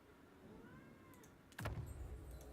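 Cats meowing, one faint drawn-out meow near the start, then a louder sharp meow followed by low rumbling, close and fairly quiet overall.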